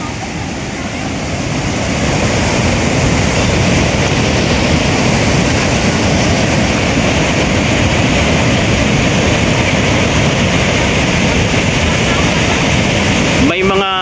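A river swollen and widened by Typhoon Tino in Canlaon City roars loudly and continuously, a dense steady rush of floodwater close by, with a brief voice at the very end.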